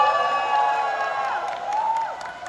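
A festival crowd at the Geumsan samgyetang festival cheers and claps for a singer after her performance, with whoops and raised voices blending into a steady, fairly loud wash of noise.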